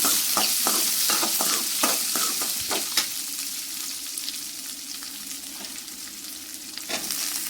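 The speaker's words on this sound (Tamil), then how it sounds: "அதுக்கப்புறம் ஆனியன் இதெல்லாம் சேர்த்து வதக்கிக்கோங்க" Onion, garlic and ginger sautéing in a pan with loud, continuous sizzling, broken early by a quick run of sharp stirring scrapes that thin out, leaving a steady hiss.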